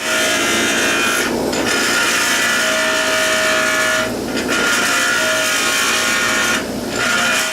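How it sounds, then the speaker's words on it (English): Bench grinder truing up a fabricated metal part: a steady loud whirring grind with a high ringing edge, briefly easing off twice as the part is lifted and pressed back, no talking. "So we're going to true it up on the grinder a little bit."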